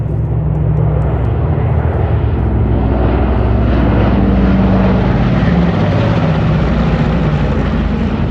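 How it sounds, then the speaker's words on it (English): Consolidated B-24 Liberator and B-29 Superfortress WWII bombers fly over at a World War II weekend airshow, a loud, steady piston-engine drone that fills the whole stretch without letup. "On the right, the Consolidated B-24 Liberator, also from the Commemorative Air Force"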